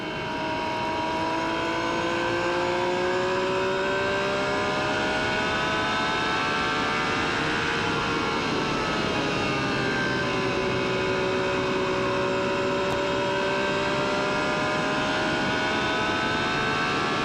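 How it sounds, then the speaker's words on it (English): A Menard-engined IndyCar races at Phoenix in 1996, its engine holding a steady, sustained drone whose pitch rises and falls gently as the car passes, loud and continuous throughout. "You can hear the Menard engine doesn't turn the RPM that the Ford Cosworths turn."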